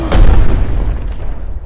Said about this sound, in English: It's about to explode.